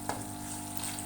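Potato and egg gravy with yogurt and spices frying in a pan, a steady close sizzle with a brief clatter near the start over a constant low hum.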